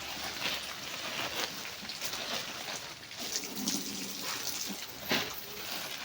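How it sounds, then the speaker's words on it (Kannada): Water poured from above over potted garden plants, falling like rain, gives a soft continuous splashing hiss with a few brighter bursts where the stream hits leaves and soil, quiet and close. "ಮಳೆ ಬಂದ ಹಾಗೆ ಆಗಲಿ ಅಂದ್ಕೊಂಡು ನೀರನ್ನು ಮೇಲ್ಗಡೆ ಎಲ್ಲ ಹಾಕ್ತೀನಿ"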